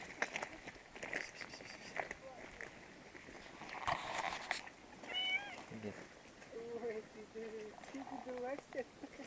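A cat on a forest trail meows several times up close, with footsteps and people talking around it.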